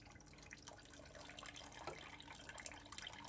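Water dripping and trickling after the hose is taken off during a home-brew mash, faint irregular drips and splashes running over low background noise, with no talk.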